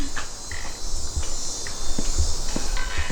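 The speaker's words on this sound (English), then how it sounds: "The insects are so happy." Steady insect buzzing and chirring fills a yard after a hurricane, a constant high drone with a few faint taps and rustles mixed in, no voices.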